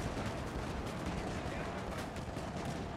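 Napoleonic soldiers firing muskets and artillery in the strategy game Total War: Napoleon: a dense, continuous roar of overlapping volleys and booms, with a voice faintly under it.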